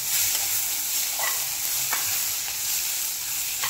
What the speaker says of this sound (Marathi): टोमॅटो हे आपल्याला खूप छान असा भाजून घ्यायचा आहे।